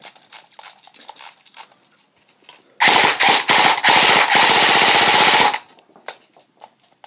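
An airsoft Colt M4 CQB rifle is fired in one long rapid burst of sharp, fast mechanical shots lasting a few seconds. Faint clicks come before and after the burst.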